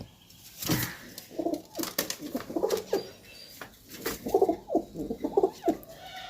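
Desi pigeons coo close by in repeated soft, throaty phrases with a steady rhythm, and a brief flutter of wings is heard near the start.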